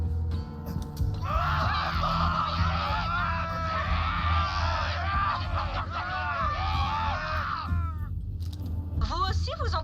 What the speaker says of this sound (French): Vous aussi, vous entendez des cris